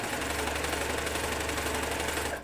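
Serger sewing machine running steadily as it stitches fabric, a dense, even mechanical whir that holds for about two seconds before cutting off near the end.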